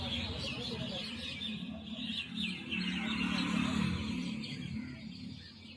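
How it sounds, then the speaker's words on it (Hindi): Many small birds chirp and twitter near a bus stop, a busy overlapping chorus of high calls over a low hum of distant road noise and faint voices. "यहाँ पे बहुत सारी चिड़िया थी और पक्षी वो चहचहा रहे थे"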